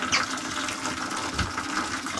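Water drains and gushes from a wood boiler, a continuous rushing, splashing flow that stays loud and close throughout.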